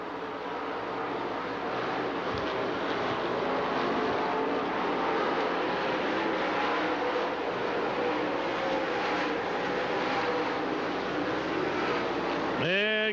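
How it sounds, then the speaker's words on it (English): Sportsman race cars roar around Dixie Speedway in Woodstock, Georgia, their engines a dense, continuous, loud wash of noise from the track, with a brief rising pass near the end. "looks like he's going to try to take over that 4th position as Paul Warren trying to hold on"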